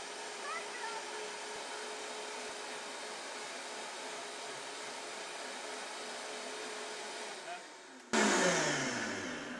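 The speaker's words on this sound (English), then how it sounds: "you're going to start your eggs in the blender. They're going to blend for at least a minute." Eggs whirring in a kitchen blender, a steady loud motor drone running for several seconds, then a sharp switch to a louder, rougher whine near the end.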